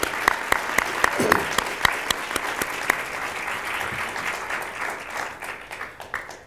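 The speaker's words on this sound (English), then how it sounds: "Let's all give them a strong round of applause and a welcome to Villanova." Audience applause fills a Villanova award ceremony for professional ethics: dense, steady clapping from a seated crowd that holds strong for several seconds, then thins slightly toward the end.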